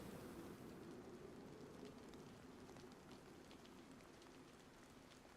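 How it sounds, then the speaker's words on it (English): Rain falls in the survival game DayZ as a soft, steady hiss of drops pattering on surfaces, faint and even throughout with a few brighter taps and no speech. "It's starting to rain. At least I'm not outside for the rain."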